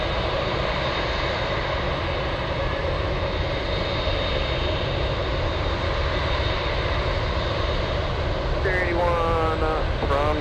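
An Air Zeta MD-11's engines at Anchorage airport roar steadily with a loud, broad drone and whine, continuous throughout, with a faint rising engine tone near the end.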